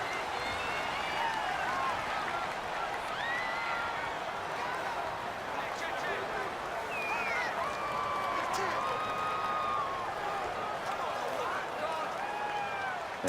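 Stadium crowd noise from a Madden NFL football video game, in a Jets vs Browns home game: a continuous roar of cheering and clapping runs beneath a commentator's voice for the whole stretch.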